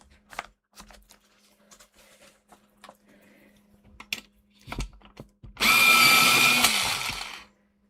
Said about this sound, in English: It just fitted in my sharpener.